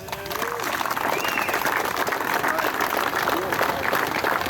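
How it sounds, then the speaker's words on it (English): Sustained applause from a crowd at the opening ceremony of a veterans' memorial motorcycle ride, steady outdoor clapping with scattered cheers and chatter mixed in. "Please give yourself a round of applause."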